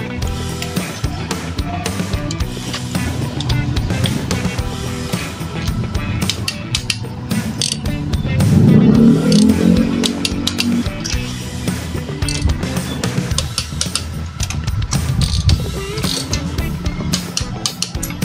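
A ratchet tightens a new CR8EH spark plug on a Super 4 motorcycle engine, with rapid repeated clicking and grinding that runs steadily throughout and swells briefly partway through.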